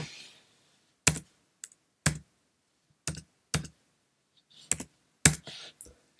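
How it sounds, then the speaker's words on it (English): Separate keystrokes tapped one at a time on a Mac keyboard while entering an authentication code, a sparse irregular run of crisp clicks close by with pauses in between and no voice. "So we can now type this code into the authenticator"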